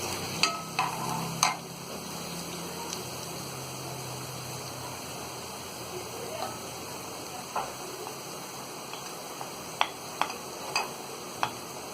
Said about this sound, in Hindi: और इसे हम अच्छी तरह फ्राई कर लेंगे।